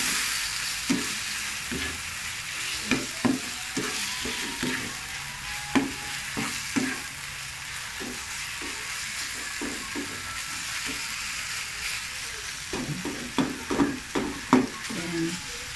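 Marinated pork fries in a pan with a steady broad sizzle, while a utensil scrapes and clacks against the pan in irregular bursts of stirring, heard close with no talking.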